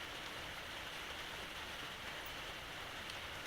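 Heavy rain falls outside in a steady, even hiss, moderately faint and continuous, with no voices over it.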